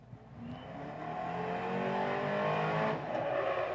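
An old Ford fire truck from North Babylon at a firematic invitational drill competition in Central Islip runs its engine, a loud, steady roar that builds and revs continuously throughout.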